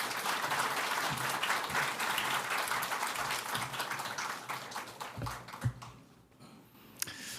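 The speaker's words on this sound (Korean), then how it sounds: "목사님을 맞이하는 의미에서 우리 박수로 환영하도록" A church congregation at a Sunday service gives sustained, dense applause to welcome a pastor, then it thins out into scattered claps near the end.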